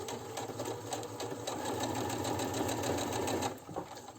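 A home sewing machine running a straight stitch with a twin needle on T-shirt fabric: a continuous, steady mechanical whir with rapid needle rhythm, close by, that slows and stops near the end.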